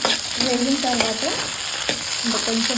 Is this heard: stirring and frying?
yes